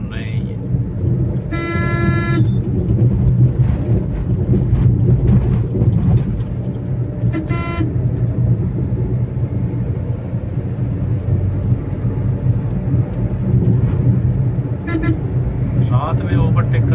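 Several short car horn toots sound at night on a highway between Kanpur and Bareilly, India, while overtaking, over steady road and engine rumble, with a louder burst early on and a couple more later.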